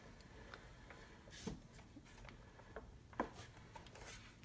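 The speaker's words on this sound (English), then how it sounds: "I'm just going to crank that right through there" A Cricut Cuttlebug embossing machine's hand crank is turned, producing close mechanical ratcheting and gear clicks with a few louder knocks as the plates pass through the rollers.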